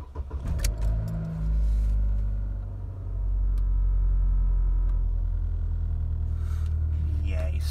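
Jeep Renegade engine starting up after a battery replacement, a steady low idle rumble settling in close by, with a brief rattle at the start and faint sounds near the end.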